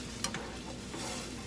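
Beans cooking in a pan with water added over lowered heat, a soft stirring scrape over a steady low sizzle, brief and quiet with no talking.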